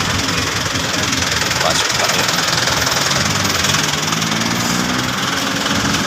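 A Philippine Army vehicle's engine idles with a steady, loud rumble and rough knocking throb throughout, while people talk nearby.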